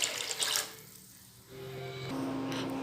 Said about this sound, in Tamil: தேவையான அளவு தண்ணி சேர்த்துக்குங்க.